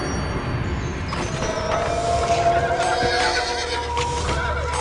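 Horses neigh and whinny in the city-building game Master of Atlantis Poseidon, several clear calls with faint hoof clip-clops under a steady game ambience, with no talking.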